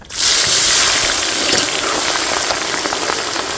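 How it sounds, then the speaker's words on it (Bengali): Sliced onion and green chilli hit hot oil with a sudden loud hiss that swells at once and holds as a steady, close sizzle, cooking for a pangas fish dish. "তেল গরম হয়ে গেছে, আমরা এখন দিয়ে দেবো পেঁয়াজ আর হচ্ছে কাঁচা লঙ্কা"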